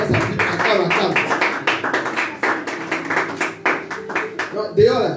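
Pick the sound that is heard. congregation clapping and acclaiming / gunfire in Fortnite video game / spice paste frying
congregation clapping and acclaiming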